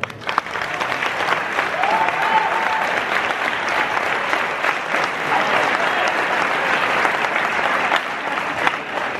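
Sustained applause from a crowd at a celebration marking the 25th anniversary of a popular town footrace, steady and full-bodied throughout with no pause.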